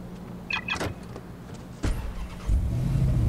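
A car in the video game Watch Dogs is entered: door and mechanical clunks, then the engine starts up and settles into a low, steady rumble, close and with no talking.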